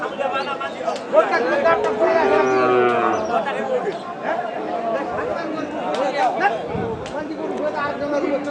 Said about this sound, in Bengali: এখানে দেশাল জাতের একটি ছোট আকারের ষাঁড় গরু